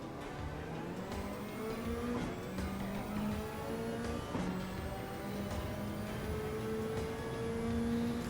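Race car engine in the Gran Turismo racing game, a steady loud drone with rising pitch sweeps as the car accelerates and shifts gears repeatedly, with no talk.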